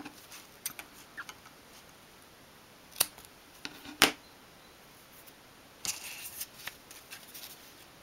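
Scissors trim thread on a miniature 1/12 scale dolls house door mat, giving a few sharp close snips separated by quiet handling rustles.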